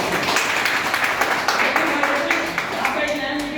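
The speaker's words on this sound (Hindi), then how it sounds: "मैं चाहता हूँ इनके लिए जोरदार ताली हो" An audience at a seminar claps loudly, with many hands striking at once in a steady, dense burst of sharp claps that continues throughout, while voices talk underneath.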